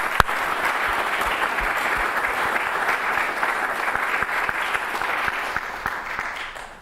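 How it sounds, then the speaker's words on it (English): An indoor audience at a suffrage centennial event gives a big round of applause: dense, sustained clapping with a few sharp individual claps standing out. It stays loud and steady, then tapers slightly at the end. "Let's have a big round of applause for that."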